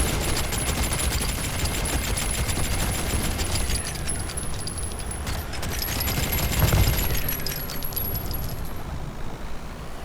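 Rapid continuous gunfire in the video game ARK Extinction, a dense stream of quick shots with metallic clinks, loud and unbroken for several seconds with no talking.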